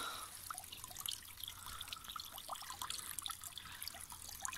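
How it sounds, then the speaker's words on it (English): A small garden waterfall feeding a little stream, giving a soft, steady trickle and splash that stays faint and even throughout, with no voices. "That's my little waterfall."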